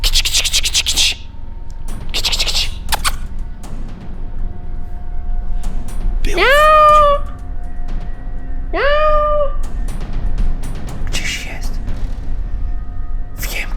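Two drawn-out cat meows a couple of seconds apart on a farm at night, fairly close, over a steady background hiss with scattered rustling.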